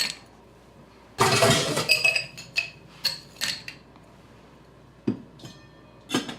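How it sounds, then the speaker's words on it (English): Ice cubes dropped into a glass of vodka for a cocktail, a loud rattling tumble followed by several sharp clinks and knocks spaced out over a few seconds, close and clear with no talking. "We're gonna put ice on it next."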